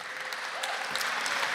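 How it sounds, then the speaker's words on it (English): A short stretch of steady, dense audience applause filling a hall, continuous and fairly loud throughout. "Can we have a round of applause?"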